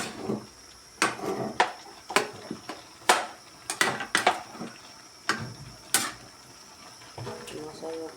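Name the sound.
stirring vegetables for pansit in a bowl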